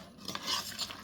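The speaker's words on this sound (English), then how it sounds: "You want to mix this till it forms the desired consistency." A salmon patty mixture with breadcrumbs and stuffing is stirred in a bowl, giving soft, quiet scraping and squishing sounds over about a second.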